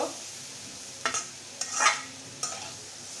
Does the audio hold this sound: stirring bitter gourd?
yes